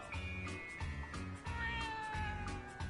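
Cat in the game Yakuza: Like a Dragon meowing several times in short, repeated calls over soft game music, close and clear with no voices.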